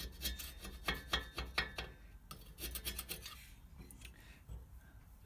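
Carbon is scraped off the cylinder heads of a Citroën 2CV in quick, faint strokes, a rhythmic series of rasping scratches, close but quiet, slowing toward the end.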